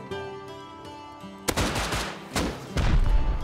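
Rapid gunfire bursts in the survival video game Rust, loud and close, with repeated sharp shots and a heavy volley toward the end.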